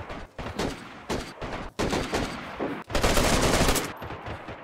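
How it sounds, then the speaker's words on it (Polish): Rapid gunfire bursts in the DayZ video game during a deathmatch, loud and close, with dense repeated shots coming in several volleys and barely any pause between them. "strzela do mnie z pistoletu, nie mogę przeładować."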